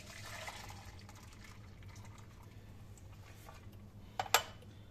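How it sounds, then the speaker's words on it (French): Grand Marnier being poured into a pitcher in a home kitchen, a soft continuous liquid trickle that fades, ending with a couple of brief clinks near the close. "je verse dans mon pichet"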